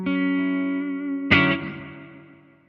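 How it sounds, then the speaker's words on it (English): Electric guitar through a spring reverb pedal, a sustained chord ringing out, then a sharp struck attack that splashes into a bright metallic spring wash and decays steadily, played alone with no talk. "spring reverb, kind of, amp reverb. You can drive the springs, you can, you know, turn up the level and get a really huge sound"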